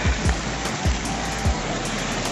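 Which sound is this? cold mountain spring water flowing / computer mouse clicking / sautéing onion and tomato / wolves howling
cold mountain spring water flowing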